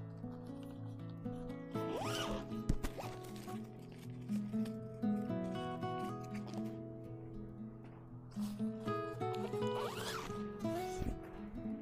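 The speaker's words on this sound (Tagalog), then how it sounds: "Then, pwede mo rin siyang i-zipper." Repeated zipper pulls on a pop-up tent, close and fairly clear, with long rasping strokes over a steady background hum.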